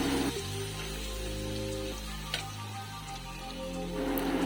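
Garlic sautéing in a pan for a curry as salt is added, giving a steady, crackly sizzle beneath sustained tonal background music.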